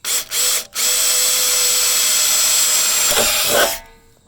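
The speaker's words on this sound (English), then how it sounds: "start with the 1/4 inch bit, and then we'll step it up to the stepper bit." A power drill with a 1/4 inch bit bores into a metal roof basket, a loud close steady whine lasting about three seconds, with a couple of brief starts before it and a winding down at the end.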